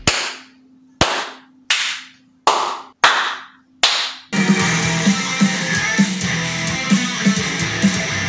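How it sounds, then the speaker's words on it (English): Six sharp hand claps in an untreated room, each followed by a ringing echo that fades in the bare, reflective space, then a dense wash of continuous noise. "this is the sound of the room untreated."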